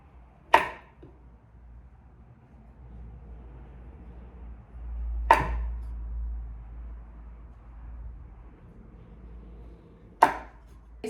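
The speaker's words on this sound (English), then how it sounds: "Now we're gonna slice the cookies into 1/2-inch pieces." A knife slices through a chilled, sugar-rolled cranberry orange cookie dough log on a cutting board, giving three distinct firm chops spaced about five seconds apart over a low background hum.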